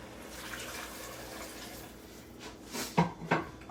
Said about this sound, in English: we're going to add just enough water to cover the potatoes